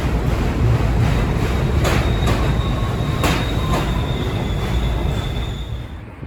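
An N subway train on the New York subway runs steadily, with a constant loud rumble from the rolling car, a few sharp bursts of wheel noise, and a faint squeal running over the top.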